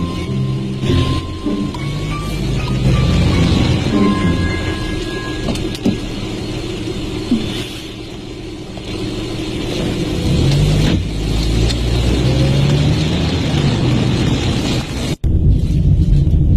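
Car engine and road rumble in traffic, steady and close throughout, with a brief dropout near the end; a few faint tonal chirps sit over the continuous drone.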